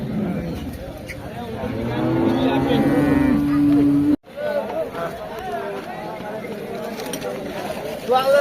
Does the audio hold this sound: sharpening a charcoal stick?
no